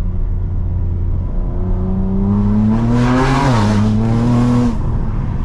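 A BMW M4 accelerates hard through a tunnel, its loud exhaust climbing in pitch through one gear, dipping briefly at a shift and pulling again, with the roar echoing off the walls.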